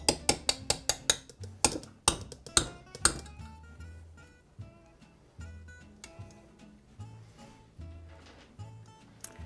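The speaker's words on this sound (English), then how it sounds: "I just clean out the whisk and start with the spoon" A spoon scrapes and knocks against a bowl while stirring breadstick dough, a series of sharp clinks and taps, loud at first and then softer and more spaced out.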